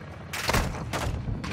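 Gun run airstrike firing in Modern Warfare II, loud bursts of rapid gunfire in two or three close, heavy volleys with short gaps between them.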